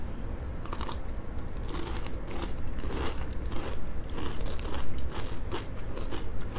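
Steady crunchy biting and chewing of a French milk chocolate bar studded with crushed frosted flakes, close to the ear and continuous, with dense crackly crunches throughout and no talking.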